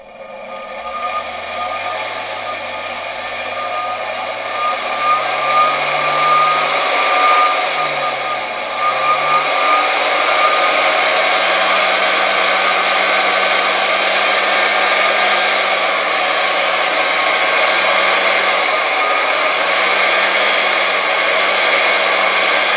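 A 1964 Gamma II vacuum cleaner, repaired after disassembly, runs steadily with a loud continuous motor whine and rushing airflow. A low hum wavers in pitch during the first seconds before settling.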